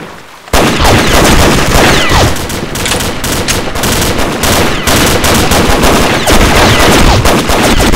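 Rapid automatic AK rifle fire in a video game, loud sustained bursts of gunshots starting after a brief quiet moment and continuing almost without pause.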